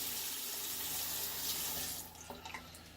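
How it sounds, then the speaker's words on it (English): A straight razor is rinsed under a running tap, water hissing steadily into the sink, then the flow stops and a few soft drips and clinks follow. "We're going to wash our razor"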